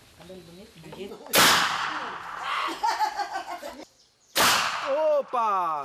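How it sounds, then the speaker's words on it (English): Two sharp, loud cracking bangs from a noise maker that ignites alcohol poured into a container ring out a few seconds apart, each followed by people laughing and giggling nearby. "it's a machine that makes the noise of gunshots when you light up the container after pouring alcohol in it"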